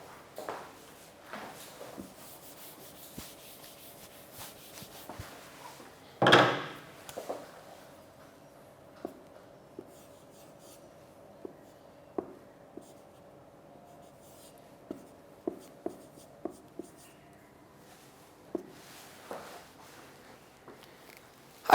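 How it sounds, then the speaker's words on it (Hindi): A teacher writes on a board in a lecture room: scattered scratchy strokes and taps of the marker or chalk over about twenty seconds, with one louder knock partway through. "ऊपर लिख देता हूँ"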